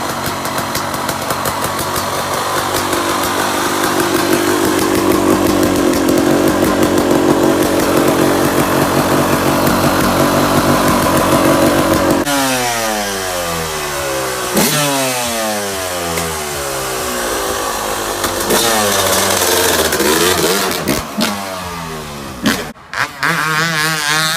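A Yamaha YZ250 two-stroke trike engine rides around a shop in the snow, buzzing and revving loudly and continuously, with rising and falling pitch sweeps as it passes and changes speed, and a few brief drops near the end.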